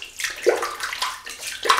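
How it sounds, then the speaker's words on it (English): Running water splashing over a shaving brush as it is wetted under a tap, a steady close trickle with a few louder splashes. "So, wet the brush."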